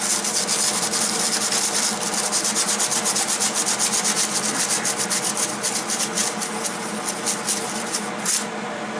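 Metal around a broken exhaust bolt is scuffed back with rapid, rhythmic abrasive rubbing strokes, close and steady for the whole stretch, with no talk.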